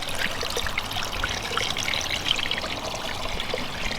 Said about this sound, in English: we actually get some water coming over there